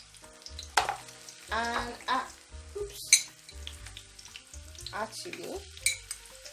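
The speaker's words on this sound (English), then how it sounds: "Our bay leaves goes in, the star anise goes in, the grains of celery goes in" Bay leaves, star anise and celery grains dropped into hot oil for Ghanaian okra stew, frying in short sizzling bursts with stirring clatter while a person talks over it.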